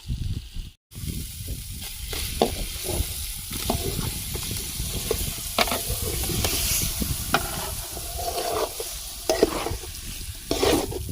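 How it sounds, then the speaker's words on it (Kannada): Chicken liver and gizzard fry in a hot pan, a steady close sizzle broken by frequent scraping stirs throughout. "ಈಲಿ ಮತ್ತೆ ಗುಂಡ್ಕಾಯಿ ಹಾಕ್ತಾ ಇದ್ದೀನಿ"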